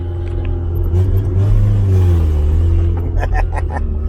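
A car engine pulls hard under acceleration, a loud steady rumble with rising harmonics, then the pitch shifts as it moves into second gear, with brief sharp knocks near the end and no talk over it.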